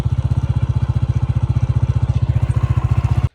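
A motorcycle engine runs at a steady idle close by in a rural potato field, a loud, even low-pitched chugging pulse that continues without pause, then cuts off abruptly at the end.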